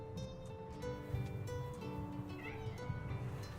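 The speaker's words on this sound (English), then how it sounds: "It just meowed." A tiny cat in the video game TERA Classic gives a meow that sits faintly under continuous game music and ambient sound.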